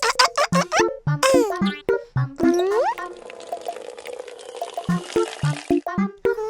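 In an animated children's cartoon, a tap releases a brief hissing gush of water in the middle of the scene, framed on both sides by chirpy cartoon voices and sound effects.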